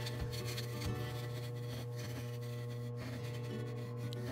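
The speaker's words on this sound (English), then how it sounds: "I'm just using my roughing chisel." A roughing chisel cuts the outside of a maple segmented bowl on a wood lathe, giving a steady, continuous rasping scrape with a constant hum beneath it, fairly close and even in level.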